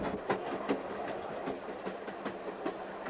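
A 1980 Amtrak Broadway Limited passenger train rolls along the rails with a steady low rumble and a regular clickety-clack of wheels over rail joints, heard from inside or close by at moderate volume.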